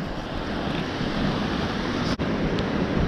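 River water rushing over Bells Rapids on the Avon River, a steady broadband roar close to the microphone with light wind buffeting and no voices.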